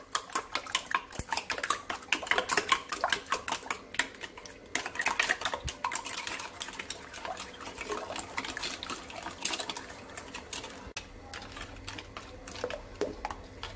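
Eggs and sugar being mixed in a bowl for a carrot and egg recipe: brisk, continuous clinking and scraping of a utensil against the bowl, close and fairly loud, with no talk.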